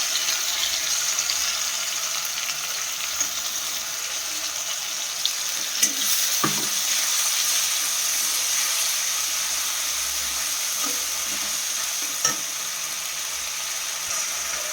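Onion and tomato paste frying in a pan, a continuous sizzle with faint stirring scrapes and a few soft knocks, steady and close with no one talking.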